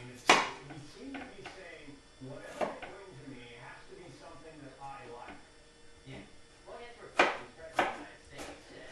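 A knife cutting pears to remove the cores and dark spots, with sharp, scattered cutting clicks and taps at irregular intervals under a speaking voice.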